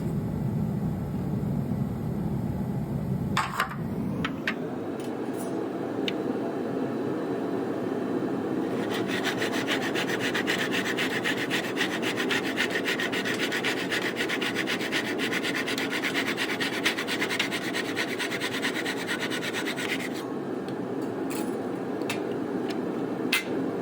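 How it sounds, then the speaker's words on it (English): A wooden bow handle blank being sawn to length and tapered at each end, a long continuous run of close, steady rasping strokes with a brief pause near the start, no talk. "I'm going to cut it down to 8 inches first and then taper off 2 inches off each end."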